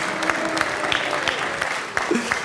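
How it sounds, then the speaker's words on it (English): Audience applause at the Weber Cup 2012 bowling event in an arena, a steady dense wash of clapping with a few sharper peaks, continuing throughout. "boo or clap, whatever you think appropriate for Chris Barnes"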